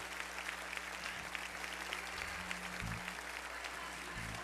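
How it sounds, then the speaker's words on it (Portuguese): A church congregation applauds during a Baptist worship service, steady dense clapping from a large crowd over a low sustained organ or keyboard drone with occasional bass notes. "Vamos aplaudir aquele que é digno de glória, de toda honra e de todo louvor"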